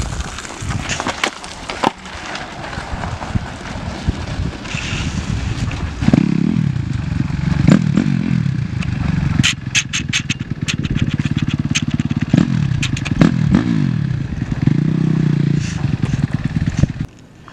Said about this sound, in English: you want to roll down the hill and let the clutch out and it'll start